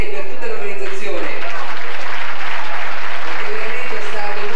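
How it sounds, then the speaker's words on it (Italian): Audience applause at a children's poetry show in San Benedetto del Tronto, a broad steady clapping that fills the hall throughout, with a voice speaking over it at times. "Io vorrei fare un grosso applauso, cari amici, per Giuditta Castelli"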